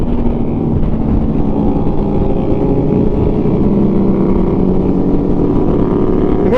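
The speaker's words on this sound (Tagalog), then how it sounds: "Ang saya, ang daming motor." Motorcycles riding along a road in a group, heard from on board as a loud, steady engine drone with wind rush, unbroken throughout.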